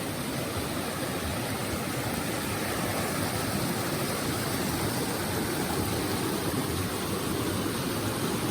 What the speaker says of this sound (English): The creek is raging today.